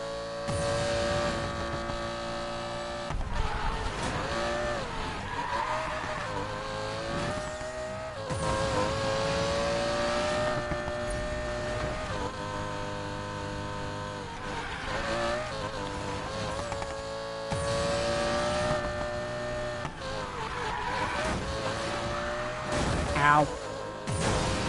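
Cars racing through traffic in Need for Speed Payback, a continuous engine drone that rises and falls with shifting revs and occasional bursts of acceleration, with a voice talking over it at times.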